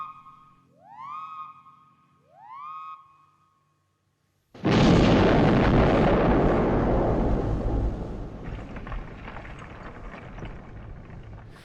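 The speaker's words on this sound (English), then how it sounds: "before a dynamite explosion in the earth fills the screen" In the 1972 film Deliverance, rising alarm-like wails sound twice, then a sudden massive dynamite explosion in the earth erupts into a long, loud roaring rumble that slowly fades.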